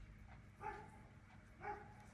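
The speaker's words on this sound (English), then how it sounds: "That's that Great Dane. I don't know if you can hear him barking" A Great Dane barks twice, muffled and at a distance, with about a second between the deep woofs over a steady background hum.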